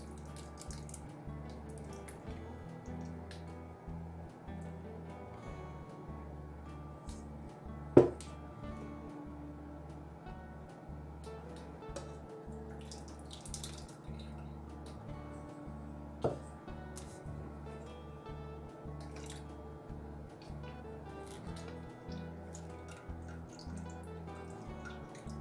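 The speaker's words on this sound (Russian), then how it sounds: "Процеживаю снова через сито." Cranberry kissel strained through a sieve gives a faint, steady trickle with occasional soft drips and one sharper drip, continuing alone without any talk.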